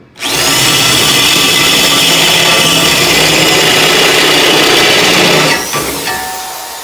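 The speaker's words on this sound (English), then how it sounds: "It's a stupid, inexpensive spade bit, and we've got a 3/4 inch hole." A power drill drives a cheap 3/4 inch spade bit through aluminum boat-building stock, waxed and pilot-drilled at 1/4 inch, giving a loud, steady grinding whir for about five seconds before winding down.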